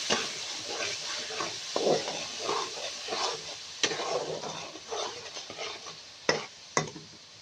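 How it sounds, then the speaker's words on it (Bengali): Spice paste of garlic, ginger, cumin, coriander, turmeric, salt and split green chillies stirred and fried in a pan, a steady sizzle with scraping spoon strokes and a couple of sharp clinks against the pan, no voices. "মশলাটা সুন্দর করে কষিয়ে নেব।"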